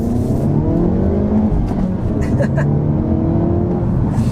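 The engine of a 2025 Hyundai Elantra N with manual transmission revs and accelerates steadily, a loud continuous roar with rising pitch, close by, with faint crackles near the middle.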